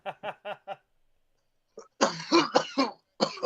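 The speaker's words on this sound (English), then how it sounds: "Tried not to cough." A run of short, rhythmic coughs, then silence, followed by a heavier fit of raspy, hacking coughs close to the listener.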